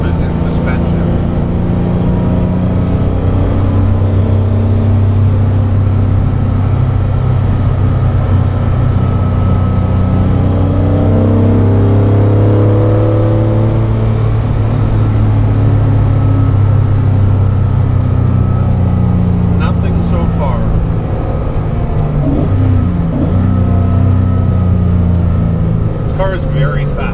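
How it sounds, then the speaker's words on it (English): A restored Mercedes 300 SL is driven fast, its engine a steady loud drone with road and wind rumble throughout, while a person talks over the noise inside the car. "I've driven a lot of 300 SLs in my day, and this is definitely one of the fastest 300 SLs I've ever driven"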